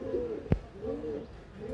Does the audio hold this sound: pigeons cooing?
yes